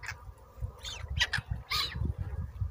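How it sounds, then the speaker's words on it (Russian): Seagulls calling on the Crimean coast, several harsh squawking cries in quick bursts, moderately near over a steady low rumble of outdoor background noise. "Чайки."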